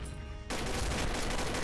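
Rapid automatic gunfire from a gun in the online shooter Combat Arms Reloaded, a dense burst that starts abruptly and continues loudly to the end.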